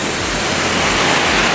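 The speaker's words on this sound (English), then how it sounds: "we have a river on this side and a brook over here on the other side of our rig" A river flows beside a campsite in the Arizona desert, a steady, even rushing wash that holds unbroken and fairly loud throughout, with no voices.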